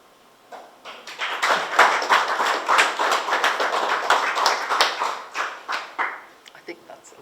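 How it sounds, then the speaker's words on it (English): A crowd breaks into applause, a dense patter of many hands clapping for several seconds before tapering off. "please, another round of applause"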